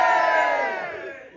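A large crowd at a Blackpool weekend event lets out a loud, sustained cheer that fades over about a second.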